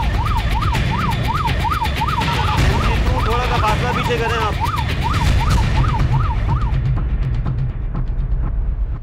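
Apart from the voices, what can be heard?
police mobile vehicle siren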